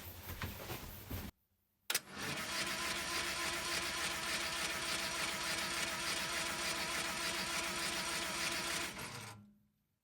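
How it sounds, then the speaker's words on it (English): The starter motor of a Triumph Roadster under restoration whirs in a steady, loud mechanical drone for about seven seconds after a brief earlier burst, then winds down and stops, with no talking. "now we're going to give the starter motor a quick go and see if we can get a spark out of it that way"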